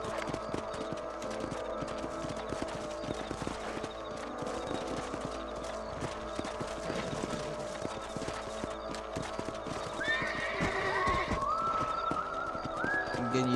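Hoofbeats of a horse in Red Dead Redemption clip-clop steadily throughout, close and fairly loud over ambient game sounds, with a brief neigh and some background bird calls.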